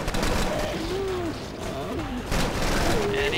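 Gunfire from a Magnum revolver in the zombie shooter Killing Floor, heard as dense, loud bursts of shots over continuous game noise, with voice-like tones mixed in.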